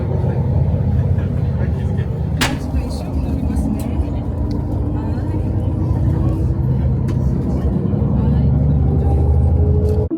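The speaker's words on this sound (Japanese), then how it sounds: "このバスで行きます。" A tour bus in Seoul near Myeongdong station rumbles steadily and loudly at close range, its engine drone continuous throughout, with a couple of sharp knocks and people talking over it.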